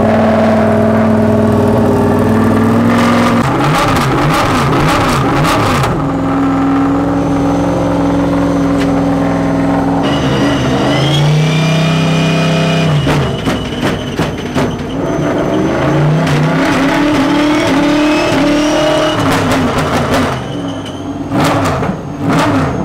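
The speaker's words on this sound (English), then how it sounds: "and then they can actually start the car" Le Mans race car engine firing up and revving hard, loud and close, with repeated throttle blips and sustained roaring over about twenty seconds.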